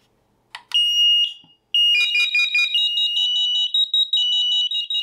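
Shrill, piercing interlinked SAFE-TECH smoke alarms beep in rapid repeating bursts, several units sounding together loudly and continuously, with no voices.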